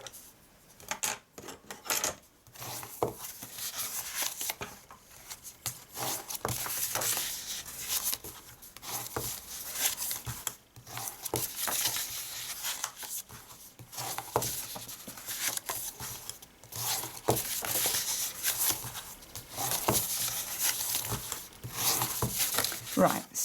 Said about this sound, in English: let's fold and burnish our lines